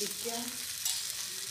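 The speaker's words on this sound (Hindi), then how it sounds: "और इसको ऐसे सेक देंगे अच्छे से, थोड़ा सा तेल कर।" A stuffed methi paratha roasts with oil on a hot griddle, giving a steady, close sizzle throughout, with a brief spoken word at the start.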